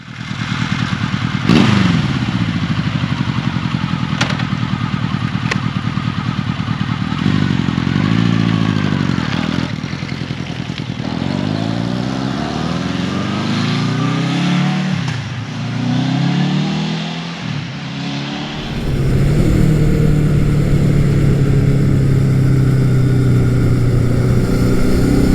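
A classic Honda CB750 K motorcycle rides along an open road, its engine loud and close as it revs up and down through repeated rising sweeps before settling into a steadier, deeper drone near the end.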